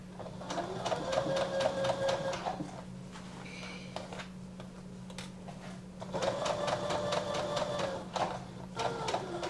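A sewing machine stitches a summer top in two long, steady runs of rapid mechanical whirring, separated by a short pause with small clicks, heard close and clearly alone.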